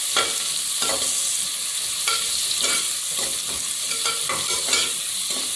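Ingredients sizzle in a hot pan while a spoon stirs them, giving a constant frying hiss broken by repeated scraping strokes roughly every second, close up and with no talking.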